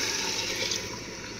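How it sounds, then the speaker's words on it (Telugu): Coconut milk poured into a pot of bagara rice, a steady close liquid rush and splash that carries on without a break before easing slightly toward the end. "దీంట్లో ఇంకా ఆ పాలు తీసి పెట్టుకున్నాం కదా, ఆ పాలు పోసుకోవటం"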